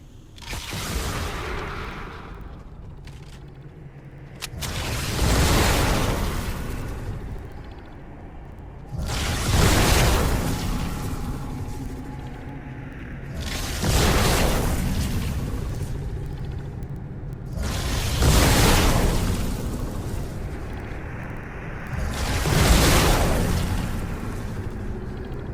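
A laser-shooting cube fires in Fortnite Creative, sending out five or six rumbling, booming blasts at a regular pace of about four seconds, each swelling and fading, loud and close, with no voices.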